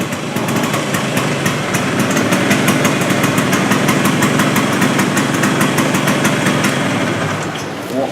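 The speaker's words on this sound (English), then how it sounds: "And push the choke back in as soon as it started and give it some acceleration." A Planet Vespa scooter engine runs steadily after starting with the choke, revving loud and close with a fast rhythmic ticking throughout and only a slight dip near the end.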